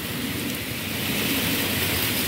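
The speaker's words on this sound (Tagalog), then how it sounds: "Grabe ang ulan." Heavy rain pours in Hong Kong, a dense, loud and unbroken hiss of falling water that fills the whole moment evenly, with no voices above it.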